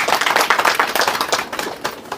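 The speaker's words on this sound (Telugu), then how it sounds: "వారి గట్టిగా చప్పట్లతో అభినందనలు తెలియజేద్దాం." An audience claps in appreciation at an interview event about natural pregnancy: a burst of quick, fairly loud, dense clapping that runs steadily and thins slightly toward the end, with no talking.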